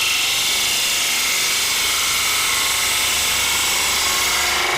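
Wood lathe spinning while an ogee bowl is shaped, a continuous loud bright whir and scraping hiss of the tool cutting, steady without pause.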